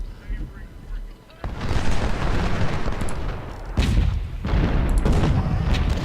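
Cannon and artillery volleys boom from a Civil War battle in the strategy game Ultimate General: Civil War, with dense rumbling blasts that keep overlapping and swell again partway through, loud and continuous.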